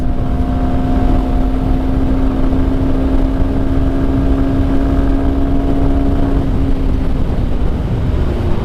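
Honda Hornet 2.0 motorcycle cruising on an open road near top speed, a loud steady engine drone holding one pitch under heavy wind rush, easing slightly toward the end.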